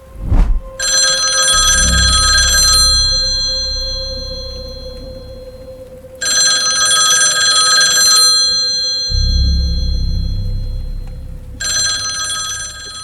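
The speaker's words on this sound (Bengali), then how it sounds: "তোমার ফোন বঙ্কিমদা অনেক দিন ধরে বেজেই চলেছে" Cartoon telephone bell ringing in three long bursts separated by short pauses, loud and clear, with a low hum underneath and no talking.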